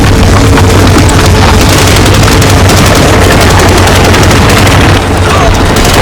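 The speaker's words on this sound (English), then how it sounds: "They're using automatic weapons but firing in small short bursts" Automatic weapons fire in short bursts during a Finnish war film battle, a loud, dense barrage of rapid shots and blasts that runs continuously with no pause.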